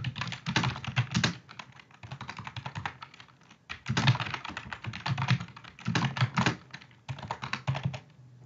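Steady bursts of typing on a computer keyboard while entering a home address into an online government petition form, close and clear, with rapid clustered keystrokes separated by short pauses and no talking.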